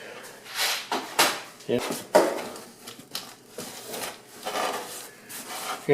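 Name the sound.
panel board nails pushed into cardboard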